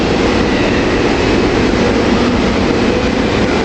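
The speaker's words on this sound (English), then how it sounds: "Coming into 30th Street Station here, we got the train to Market East, train 1564 to Market East." A SEPTA Silverliner IV commuter train pulling into 30th Street Station, its wheels and motors making a loud, steady rumbling roar on the rails, with no voices.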